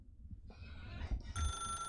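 A telephone in The Stanley Parable starts ringing, a bright electronic trill rising in over low ambient rumble and holding steady and fairly close to the end.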